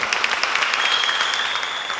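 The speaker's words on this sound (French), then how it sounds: "applaudissements bien fournis pour Safiatou" Audience applause for the singer Safiatou after her song at a school holiday event, a loud, sustained patter of clapping with a thin, steady tone running beneath it and no speech.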